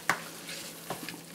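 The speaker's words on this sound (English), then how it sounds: "the ground masala is fried well" Ground masala for a fish curry frying quietly in a pan, with a few soft stirring scrapes and faint sizzling, no talk.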